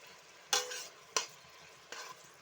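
Onion fries in a pan, giving a soft sizzle that is broken by three sharp scrapes from stirring, close by and with no voices.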